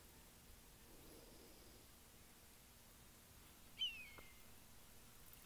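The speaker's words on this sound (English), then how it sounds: "I hear a hawk." A hawk calling outdoors, one brief high shrill cry standing out from faint steady background hiss, fairly distant and heard alone.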